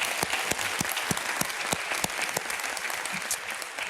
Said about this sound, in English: Can we please give both presidents a round of applause?